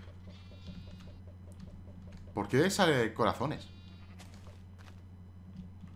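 A sheep in the video game Minecraft gives a loud, close bleat lasting about a second, with a steady background tone and a person speaking Spanish around it.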